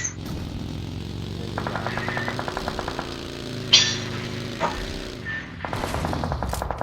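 Gunfire in the video game PUBG comes as rapid bursts of regular automatic shots over a steady engine hum, with a sharp single crack in between and another burst of fire at the end.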